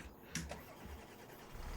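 A tractor engine cranking and catching in Farming Simulator 25, a short, faint mechanical start followed by a low idling hum.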